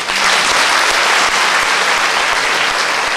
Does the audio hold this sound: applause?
yes